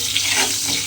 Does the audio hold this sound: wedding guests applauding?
no